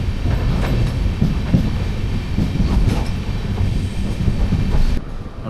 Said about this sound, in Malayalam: തെന്മല സ്റ്റേഷനും അങ്ങനെ പാസ് ചെയ്ത് ട്രെയിൻ ഇങ്ങനെ പോയിക്കൊണ്ടിരിക്കുകയാണ്